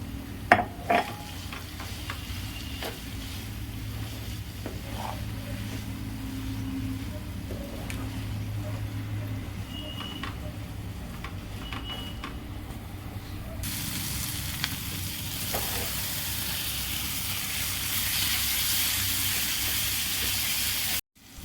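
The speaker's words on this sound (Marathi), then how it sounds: "आता त्यात ठेचा घालून परतून घेऊ छान" Green chilli thecha sautés with softened tomato in a pan, with a low sizzle and occasional scraping stirs that swell into a louder, bright hissing fry in the second half.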